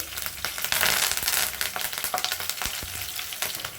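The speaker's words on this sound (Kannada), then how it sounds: "ಇವಾಗ ಕರ್ಬೇವಿನ ಸೊಪ್ಪೆಲ್ಲ ಫ್ರೈ ಆಗಿದೆ" Mustard seeds, chopped green chillies and curry leaves fry in hot oil with a loud, dense crackling sizzle that swells and then settles, broken by a few spatula knocks near the end.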